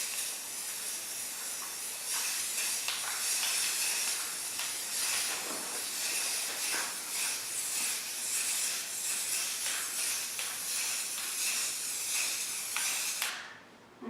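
A spray paint can puts a second coat onto a canvas with a loud, steady, close hiss of aerosol that runs almost without a break for about thirteen seconds, then cuts off.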